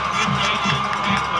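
A home-side high school football crowd at Smiths Station on a hot evening, cheering and shouting steadily as the Panthers run onto the field, a dense, continuous roar of many voices with scattered whoops.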